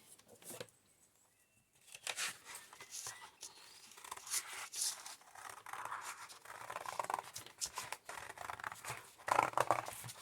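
Scissors snip through recycled packaging to cut out paper dove shapes, a close, quiet series of scratchy cuts and rustles that starts after a near-silent opening.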